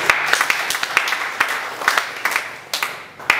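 A church congregation gives a clap of praise during a sermon, a loose, uneven patter of many hands with scattered sharp individual claps standing out, moderately loud and without talk.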